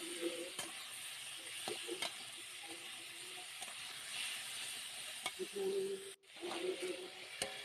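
Vegetables fry with a soft, steady sizzle in a pan while occasional stirring scrapes and taps punctuate it, quiet and close, with a brief dropout near the end.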